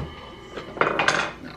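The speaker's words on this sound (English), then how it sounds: "stirring 6 pounds of cheese is, you know, pretty tough" Six pounds of nacho cheese being stirred in a pot, heard as a few scraping, clinking utensil-against-pot strokes that build over a short span, with no talk.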